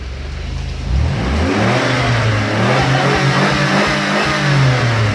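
Car engine in a motor test experiment with strawberry jam in it, idling loudly up close, then revving and pulling forward with a rising and falling tone that holds steady.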